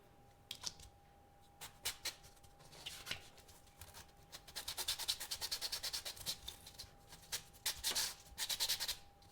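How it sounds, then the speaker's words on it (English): Sandpaper rubs away injection molding ports on plastic Spider-Man shells in close, scratchy strokes, first sparse and intermittent, then in quick rhythmic bursts, with a faint steady tone humming in the background. "Just until you've sanded off those little injection molding ports."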